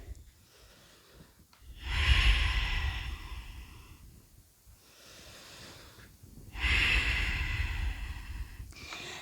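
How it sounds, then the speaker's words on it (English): Slow deep breathing while holding downward dog in a yoga core flow, two long audible exhales, each a loud breathy rush of air with quiet inhales between them. "A few breaths in down dog."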